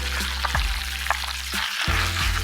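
Finely chopped meat filling stir-fries in a wok over moderate heat, a constant close sizzle broken by several scraping strokes of the spatula, with no voices.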